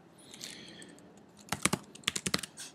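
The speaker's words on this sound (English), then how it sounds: "Otherwise, you can type in your username," Quick keystrokes on a computer keyboard enter a username, a short run of close, crisp clicks in uneven bursts after a quiet pause.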